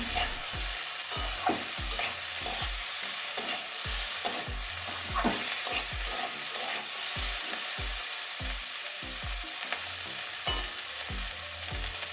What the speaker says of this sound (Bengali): এবারে আর তো কিছুক্ষণ নাড়াচড়া করে নেবো তারপরে নামাবো